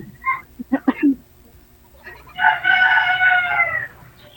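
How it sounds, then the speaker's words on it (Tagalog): A few short clucks come first, then a rooster lets out one loud, drawn-out crow nearby. "Madaling araw pala dyan sa inyo kasi may manok. Naririnig ko."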